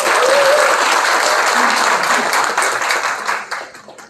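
An audience at a Korean party labour committee launch ceremony claps loudly and steadily. The applause is dense at the start and fades out over the last second.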